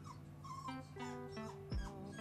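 A puppy whines and whimpers close by in high, wavering cries, with a short low thump near the end and no talking.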